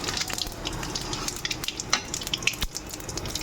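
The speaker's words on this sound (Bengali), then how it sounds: "আর পেঁয়াজগুলো ভেজে নেব" Onions sizzle and crackle in hot oil along with bay leaves and cumin for a meat dish, a constant spitting hiss punctuated by sharper pops and stirring scrapes, close by and without speech.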